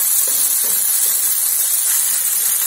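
Chopped tomatoes hit golden fried onions in a hot pan, giving a steady, close, loud hiss and sizzle throughout with no talking.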